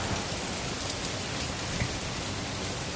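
Heavy rain during Hurricane Harvey falls as a dense, constant hiss of drops on surfaces, steady and alone with no voices.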